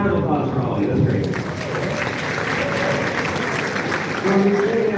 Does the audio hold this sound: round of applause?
yes